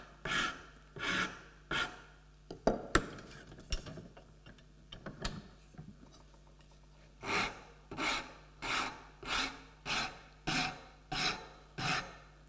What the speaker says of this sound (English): And then a rasp or a file just to clean out the rough marks.